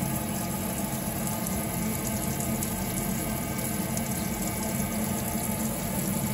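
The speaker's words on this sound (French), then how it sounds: "Maintenant je vais ouvrir un robinet de froide" Cold water running from a tap while descaling household plumbing: a steady, continuous rush of water with a low mechanical hum underneath, constant throughout with no voices.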